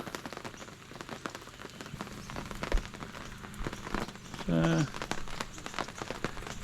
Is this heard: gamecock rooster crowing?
no